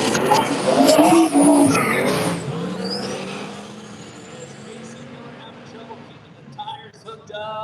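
Drag race cars launch off the start line in a wooded-track event, a loud burst of engine roar and tire noise in the first seconds, then fading as the cars pull away, with an announcer's voice over the top.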